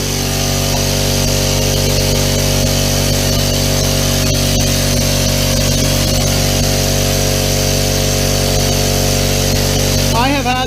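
A Harbor Freight air compressor runs steadily throughout, a loud continuous motor drone with strong harmonic hum as it builds pressure, with a brief higher squeal near the end.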